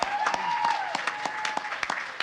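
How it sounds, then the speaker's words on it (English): A crowd at a Friday the 13th fan gathering applauds Fangoria, a steady burst of claps with sharp individual hits, alongside a faint sustained tone in the background. "I think we should give another round of applause to Fangoria and all the guys here"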